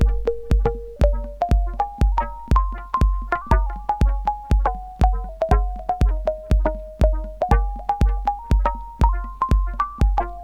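Ableton Operator synth playing a steady stream of plucked notes whose pitch glides up and down as an LFO sweeps the oscillator frequency, each note with a punchy low thump and quick decay, alone with no voices.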